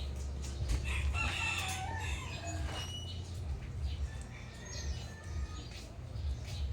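Chickens cluck close by over a steady low hum, with a rooster's crow rising briefly amid the calls.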